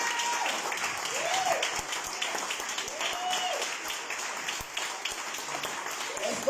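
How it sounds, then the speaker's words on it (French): Congregation in a French-speaking church applauding steadily throughout, a broad even wash of clapping with a voice singing or calling faintly over it. "sous vos acclamations, nous allons acclamer la parole de Dieu"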